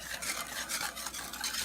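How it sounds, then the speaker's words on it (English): A cocoa, sugar and salt fudge mixture is stirred in a pot before cooking, a soft, rhythmic scraping and rubbing that repeats steadily and sits quiet and close with no voices. "we're going to stir this up real good"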